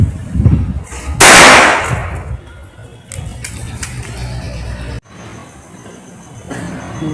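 An Indian-made air pistol fires an exploding sound cork, giving one loud sharp crack with a brief hissing tail, followed by a few lighter clicks and handling noises.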